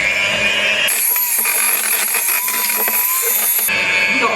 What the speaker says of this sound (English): Let's whisk this one up.